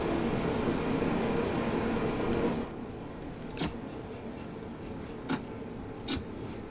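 A Bakerloo Line train's traction motor whines in the Train Sim World 2 video game, a steady rumbling drone that drops in level partway through, then continues quieter with occasional sharp clicks.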